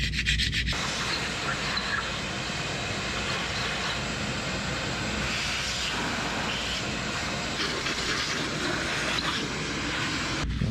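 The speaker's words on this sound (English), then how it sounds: "Little super scraper is the Hucky Puck eraser" A Hucky Puck eraser wheel scrubs the oil pan mounting surface on a 1976 GMC engine during an overhaul, making a loud, steady abrasive rubbing that runs unbroken and alone the whole time.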